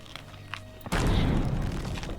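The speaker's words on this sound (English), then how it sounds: "Ooh, that was a big explosion." A big explosive barrel blows up in Sea of Thieves after a quiet stretch: one sudden loud boom followed by a long, dense rumbling blast that stays strong to the end, with no talking over it.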